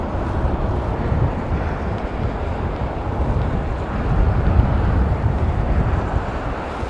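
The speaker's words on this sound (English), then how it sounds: "wind's picking up" Strong gusting wind roars steadily across a microphone at Heathrow Airport during Storm Ashley. The rumble is loud and continuous and swells near the middle.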